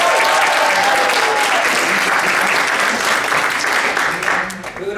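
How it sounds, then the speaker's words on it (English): An audience at a guild induction ceremony applauds, a dense, loud, continuous patter of many hands clapping that holds steady before tapering slightly at the end. "can we give a round of applause to the CHE hospitality team for all their support?"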